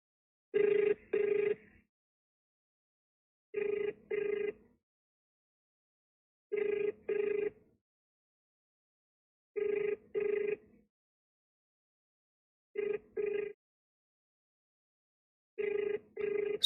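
A telephone rings back while a call is placed, six evenly spaced double-burst rings separated by silence, clear and moderately loud with nothing else around them.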